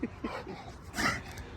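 A pound-rescued dog whimpers and gives short yips and barks in quick, uneven bursts, fairly close, with a louder squeal near the end.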